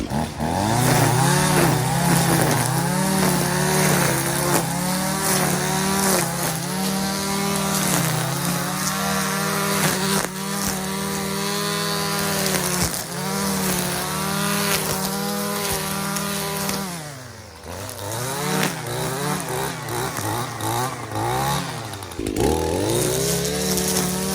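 An ECHO SRM-3020U brush cutter cutting through very thick patches of grass, its small engine whining loud and close, rising and falling in pitch as it bogs under load, with one brief dip before revving again.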